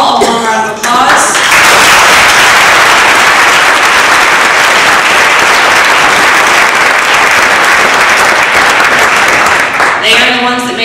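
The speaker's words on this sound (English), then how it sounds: "I'll give them all a warm round of applause." Loud, dense applause from an audience at a district evaluation speech contest, sustained for about nine seconds, with a speaking voice just before and after the clapping.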